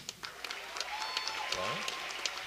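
Audience applause at a winter band festival, with steady clapping from a large crowd and an announcer's voice over it.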